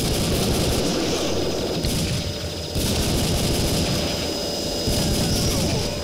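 Rapid gunfire in the arcade shooter Time Crisis, aimed at the rocket launch point of an enemy, a continuous loud barrage of shots layered over game music and explosions with no pauses.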